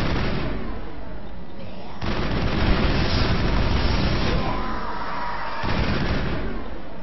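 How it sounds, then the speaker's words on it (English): Assault rifle fire in the video game Mass Effect, with dense rapid bursts crackling continuously and loudly, overlapping booms and impacts, and no talk. "Only this assault rifle had better accuracy."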